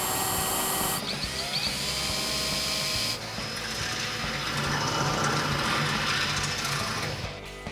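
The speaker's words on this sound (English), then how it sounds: "we're going to begin the drilling process and bolt the toolbox down to the quick mount" A power drill whirs at high speed, its pitch shifting as it bites into the metal of a toolbox drilling mounting holes, loud and close, running continuously with brief changes in load.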